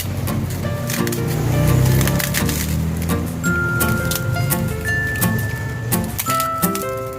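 Crackers being crushed by hand inside a banana leaf for pecel, a dense run of crisp crackling and crunching, loud and close throughout.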